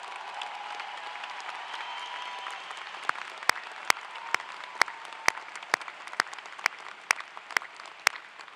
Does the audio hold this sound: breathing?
no